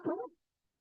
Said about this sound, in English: Oh, that was a sneeze.